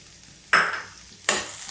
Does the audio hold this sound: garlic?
yes